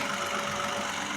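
A 1.5-liter three-cylinder engine, the same one used in the Bronco, idles with a steady, even drone and a faint uneven pulse, heard close up with no one talking.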